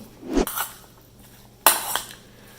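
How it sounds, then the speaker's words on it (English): Creamy beet and corn salad is stirred in a bowl with a few scraping, clinking strokes of a utensil against the dish, close and moderately loud, with quiet pauses between. "So now I'm just going to mix everything."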